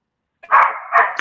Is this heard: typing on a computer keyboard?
no